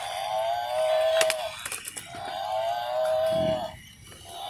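A cow moos in two long, drawn-out calls separated by a short pause, loud and close, with a few faint clicks and knocks in between.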